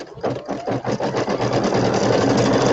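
An embroidery machine stitching out colour 2, tacking fabric to the stabilizer with a fast, steady mechanical chatter and motor hum. It is close and loud and runs continuously.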